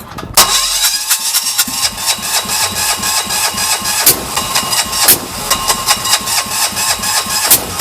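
Diesel engine fitted in an SMZ invalid carriage cranks and catches, then runs at a loud, rough, clattering idle with uneven throttle blips and a brief dip near the middle.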